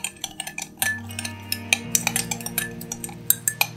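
Chia seed gel being mixed in a bowl for a Chia Dunny kit, giving a run of quick clinking and scraping taps with a steady low hum underneath, close and moderately loud.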